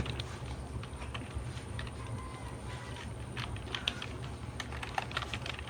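Fingers tapping a computer keyboard while entering a search term, a quick irregular run of light clicks and key presses, close and fairly quiet, with no speech.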